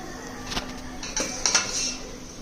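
Fried vermicelli being moved from a pan onto a plate, with a few light metallic clinks and scrapes of utensil against cookware, close and fairly soft.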